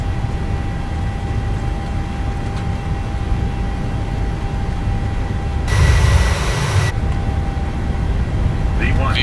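Airliner jet engines in Microsoft Flight Simulator 2020 roaring at takeoff thrust, a steady loud broadband rumble with a constant tone, swelling briefly midway, while a voice talks over it.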